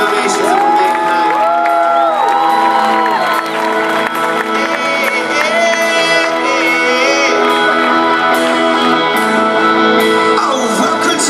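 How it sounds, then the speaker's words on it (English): A loud crowd at a Switchfoot benefit soiree whoops, shouts and cheers continuously, with high excited voices and applause blending into a dense, sustained roar. "I need a round of applause for all the incredible donations that were made tonight."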